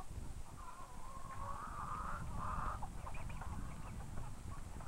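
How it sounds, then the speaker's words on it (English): A farm hen clucks in a short run of soft, tonal calls rising then breaking off, heard faintly over a steady low background hum. "This is a hen."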